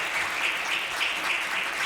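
At a prevention conference keynote in Georgia, an audience claps steadily, a continuous wash of applause that holds at even strength, neither building nor fading.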